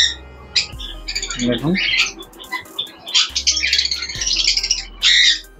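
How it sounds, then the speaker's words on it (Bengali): Lutino Fischer's lovebirds in an aviary give repeated shrill squawks and chirps throughout, close and loud, with a voice speaking briefly over them. "দেখুন এখানেও লাভবার্স কিছু রয়েছে।"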